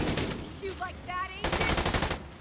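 Automatic gunfire in The Division 2, loud and close, with rapid rhythmic bursts at the start and again in the second half, broken by a short gap filled with faint in-game tones.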